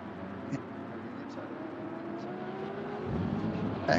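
Race cars, including a Lamborghini, BMW and Ferrari, during the Sepang 12 Hours endurance race in 2023, heard as a faint, distant engine drone with rising and falling tones and a few brief knocks, under steady commentary.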